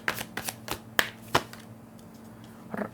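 Tarot cards are shuffled by hand in a quiet room. A few crisp riffling snaps and soft card slaps come in short bursts, then trail off to near silence before one last flick.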